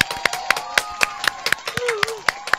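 Electronic applause effect of quick sharp claps at a steady rhythm, played at a Romanian radio station in Vaslui, with a sustained musical tone beneath and a short gliding note near the end.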